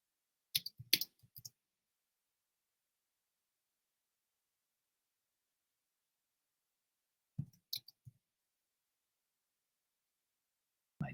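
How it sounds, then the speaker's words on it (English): Keyboard typing comes in two brief bursts of quick, light keystrokes separated by a long silence, with a few more keys at the very end. "My typing fingers are rusty."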